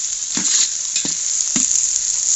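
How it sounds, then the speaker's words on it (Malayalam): Onions frying in a hot pan give a steady bright sizzle, broken by three short scraping stirs spaced about half a second apart, close and fairly loud, with no voices. "നമുക്കൊന്ന് ചെറുതായിട്ട് ഇളക്കി കൊടുക്കണം."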